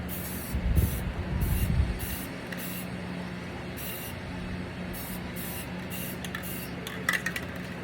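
An aerosol spray paint can sprays onto a 22 x 28 inch canvas, close hissing bursts of varied length with short gaps between them, and one slightly louder puff near the end, with no talk.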